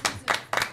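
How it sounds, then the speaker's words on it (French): Audience clapping for partner Sébastien Guins during a Martinique show episode, a few brief bursts of hand claps in a short, patchy round. "On peut l'applaudir bien fort, s'il vous plaît"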